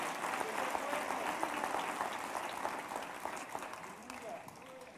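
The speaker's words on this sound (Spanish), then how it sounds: "Dale un aplauso bien fuerte al, al Rey bendito, hermano." A church congregation claps steadily for several seconds, a dense wash of applause that holds level and thins slightly toward the end, with voices faintly audible underneath.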